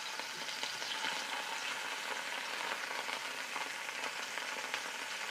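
Scallops searing in a hot pan give a continuous, fairly quiet sizzle and crackle, even and unbroken, with faint scattered pops and no talking over it.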